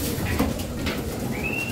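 Pigeons in a fancier's loft cooing, soft low throaty calls that repeat over a muffled background, with a brief higher thin tone near the end.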